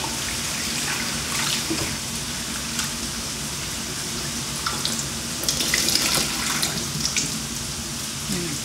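Running tap water splashing over wood ear mushrooms being washed in a sink, a continuous close gush with small bursts of splashing as they are handled.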